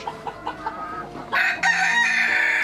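A broody hen gives a few rhythmic, evenly spaced clucks, then breaks into a loud, drawn-out call, close by.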